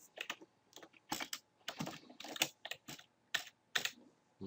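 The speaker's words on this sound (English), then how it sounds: "I would simply double click and start typing" Fingers type in quick, uneven bursts on a computer keyboard, the clicking keystrokes close and distinct with short pauses between clusters, and no one speaks.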